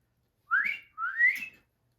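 An elderly man whistles two cheerful rising phrases, the second longer and sliding upward, clear and close in otherwise silent surroundings.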